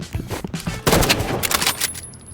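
Rapid bursts of gunfire from a mobile shooter video game, clustered volleys of sharp cracks that intensify in the middle and then trail off.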